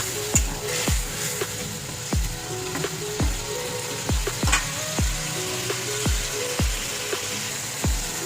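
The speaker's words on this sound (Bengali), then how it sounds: "মাছের এই ঝালটা কিন্তু ভালো রকম ফুটে গেছে" Bengali fish curry with potatoes bubbling in a pan, a steady hiss with regular sharp ticking pops repeating about once per second, close and even throughout.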